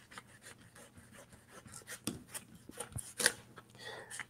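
A knife cuts lengthwise through a butternut squash, giving quiet, irregular scraping and crunching with a few sharper cuts and clicks close by.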